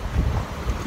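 Strong wind gusts outdoors in Greece buffet the microphone with a dense, rumbling roar, steady and close for a brief moment with no voices.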